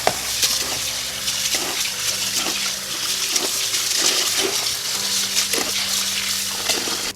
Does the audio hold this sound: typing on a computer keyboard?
no